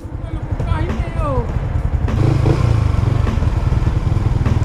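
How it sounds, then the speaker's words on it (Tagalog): Motorcycle pushing through a flooded road after a typhoon, its engine droning loudly and close with splashing and clattering water throughout, while people talk over it. "Subukan namin kung kakayanin ng motor."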